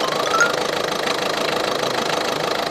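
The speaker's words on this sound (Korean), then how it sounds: "자, 엔진음 한번 보도록 하겠습니다" A used car engine idles steadily close by, a continuous loud mechanical rumble with a faint rhythmic ticking and no speech.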